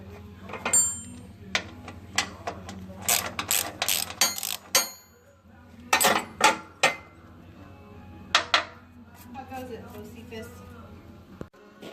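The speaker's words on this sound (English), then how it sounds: "so I'm removing this bolt that was on the deck here." A bolt is worked loose from a Gravely ZT HD 52 zero-turn mower deck, giving bursts of ratcheting clicks and metallic clinks in uneven spurts, loud and close, with pauses between.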